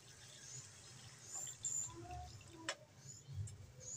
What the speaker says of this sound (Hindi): अब हम इस पर डालेंगे तकरीबन 2 कप पानी।